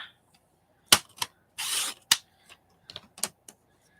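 Paper gets trimmed with scissors in short bursts: sharp snips and crisp rustles, one longer swish, then scattered light clicks against near silence.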